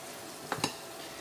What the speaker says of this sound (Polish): Nakładam i smażę.